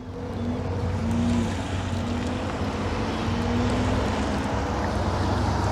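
Steady wind blowing outdoors on a fair day, a constant broad rush with low rumbling gusts buffeting the microphone throughout, with no clear speech.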